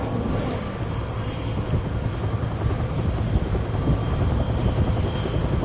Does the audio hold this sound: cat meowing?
no